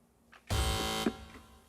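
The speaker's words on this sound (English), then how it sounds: "fingers on buzzers" A game show buzzer on a quiz panel gives a single loud, flat electronic blast lasting about half a second, close and dry, with a short bump as it cuts off.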